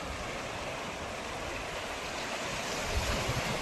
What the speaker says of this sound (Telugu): ఈరోజు చాలా వాటర్ ఫ్లో ఎక్కువ ఉంది.